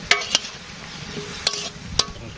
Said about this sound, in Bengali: কষিয়ে নেই যাতে নরম হয় মরিচ